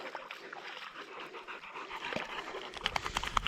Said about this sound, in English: Got a dog in the middle of it.